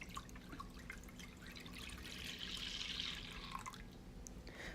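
Regular milk poured into a pan for pecan atole, a soft steady trickle and splash, close and quiet, swelling slightly midway and easing off toward the end.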